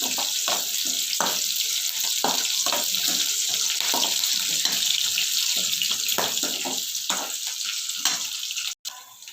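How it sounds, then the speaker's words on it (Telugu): Cumin seeds and two dried red chillies frying lightly in a pan, a continuous close sizzle with repeated stirring knocks and scrapes on the pan, steady and loud until a brief cut near the end. "కొంచెం జీలకర్ర, ఇలా కొంచెం ఫ్రై అవనివ్వాలండి"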